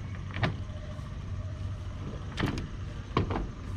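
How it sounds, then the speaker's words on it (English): Several short scraping clunks as a Pella sliding door is lifted and shifted off its bottom track, separated by quiet pauses. "take the door right off the track"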